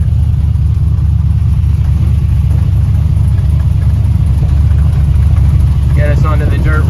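Chevy C10 pickup truck engine running steadily with a deep, continuous low rumble throughout, loud and close; a voice speaks briefly near the end over the motor.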